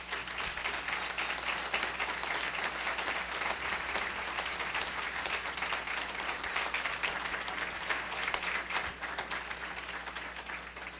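Sustained audience applause at a party congress of the Polo Democrático Alternativo, a dense, steady wash of many hands clapping throughout with a faint crowd murmur beneath.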